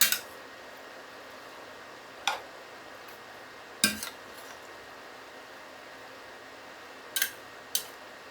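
Diced tomatoes being stirred in a cooking pot, giving a few sparse, brief clinks and scrapes of a utensil against the pot, spaced out over quiet background.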